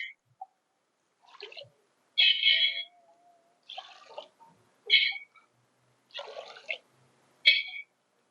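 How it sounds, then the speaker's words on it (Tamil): Short bursts of water splashing and pouring into a pot, several separate pours with quiet gaps between them, close by. "உப்பு வச்சிருந்த பாத்திரத்துலேயே தண்ணி ஊற்றுறேன்"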